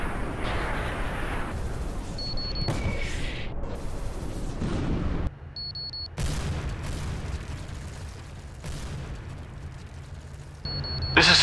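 Indirect artillery fire lands in a military simulation video game, with several heavy booming impacts breaking through a dense, rumbling background. Short electronic beeps sound between the blasts.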